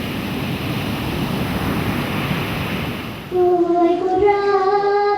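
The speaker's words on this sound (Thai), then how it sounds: "ชายหาดบ้านทอนในวันที่คลื่นลมแรง" Strong wind and ocean waves roar steadily on Ban Thon beach in Narathiwat, Thailand, in rough weather. Near the end a steady tonal hum takes over from the surf.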